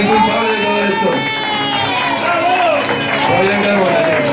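Audience applause and crowd noise at a flamenco show, a dense, steady wash of clapping with voices mixed throughout.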